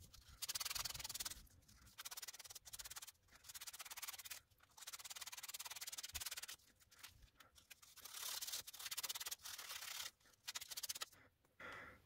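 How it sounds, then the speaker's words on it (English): Hand sanding of a shaped part during final detailing of an Auster model, steady rhythmic rasping strokes in repeated bursts with short pauses, close and fairly quiet. "I could just sand the shape of that"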